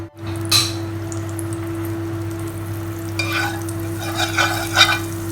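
Butter sizzling in a pan while cooking Knorr congee, a steady close hiss over a constant hum, with a few stirring scrapes and spoon clinks breaking through.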